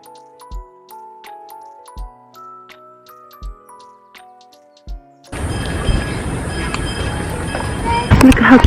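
A steam train ride begins with a gentle tune of ticking, music-box-like tones and soft thumps, then shifts into a loud, continuous rumble of rolling rail cars with a high squealing whine over it.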